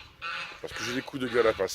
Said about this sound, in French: Alors ce que vous entendez, c'est mes oies.